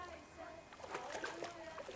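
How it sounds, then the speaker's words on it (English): In Kingdom Come: Deliverance II, a thrown stone lands in water with a soft, faint splash and slosh partway through, mixed under quiet spoken voices. "Throw a stone in the water near her to lure her away."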